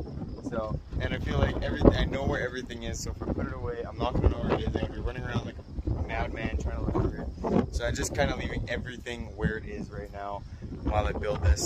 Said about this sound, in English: sorry about the wind, it's super windy